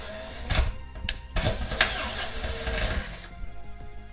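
A drill-tap cutting 1/4-20 threads into painted metal, a continuous grinding, whirring mechanical sound with a few sharp clicks and ratcheting bursts, close and fairly loud, stopping abruptly near the end.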